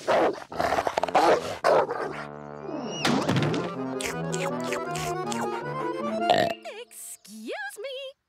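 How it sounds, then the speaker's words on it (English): A cartoon dog barks loudly a few times amid a busy cartoon-like soundscape with voices and musical tones, ending with whistling slides. "That's what I call a bark!"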